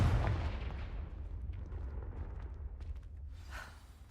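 Confringo blasting spell in the Hogwarts Legacy video game, a single heavy explosive boom at the start that rumbles and decays over several seconds, with a faint whooshing swell near the end.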